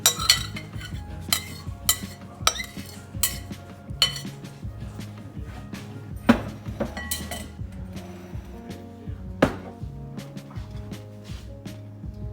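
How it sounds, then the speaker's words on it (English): A utensil scrapes leftover food into a pan with repeated sharp metallic clinks and scrapes at an irregular rhythm, close and moderate, over a low steady background tone. "I'm gonna scrape the rest into the pan for Justin and the kids."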